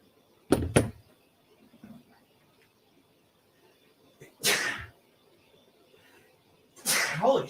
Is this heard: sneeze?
yes